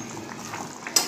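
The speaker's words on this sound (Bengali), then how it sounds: "মাছটা দেওয়ার পরে তিন চার মিনিট আমি ফুটাবোটা, তারপরে আমি এটা নামিয়ে নেবো।" Fish and potato curry boiling in a pot, bubbling in a steady low simmer close by, with a brief sharper hiss at the very end.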